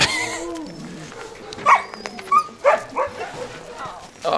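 Racing Siberian huskies in central Finland bark and yip in short, loud, close bursts, several in quick succession, mixed with whines, while a person talks nearby.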